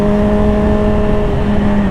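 A Yamaha R6 motorcycle inside a tunnel, its engine droning loud and steady with a strong hum that echoes off the walls, with no clear break in the sound.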